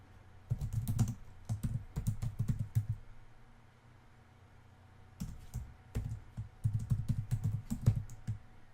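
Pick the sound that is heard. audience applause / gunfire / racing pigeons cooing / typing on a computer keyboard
typing on a computer keyboard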